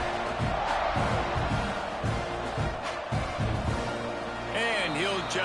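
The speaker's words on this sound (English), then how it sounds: "this crowd now ready to get behind them" Football stadium crowd at a South Carolina versus Texas A&M game, a loud roaring mass of voices with bursts of cheering and a rhythmic chant, under a broadcaster's commentary.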